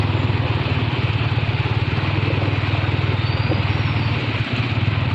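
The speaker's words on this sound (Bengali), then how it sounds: "এই যে আমরা টাঙ্গুয়ার হাওরে বাইক নিয়ে ঘোরাফেরা করতেছি।" A Yamaha R15 V3 or TVS RTR 160 motorcycle rides around Tanguar Haor, its engine holding a steady, close, even drone with a low throbbing pulse throughout and no speech.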